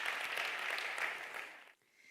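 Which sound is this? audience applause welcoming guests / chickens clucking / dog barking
audience applause welcoming guests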